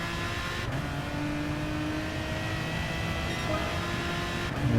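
An Aston Martin DBR9 race car in Gran Turismo Sport holding a steady, loud engine drone with gear changes and shifting pitch, close and continuous with no talking.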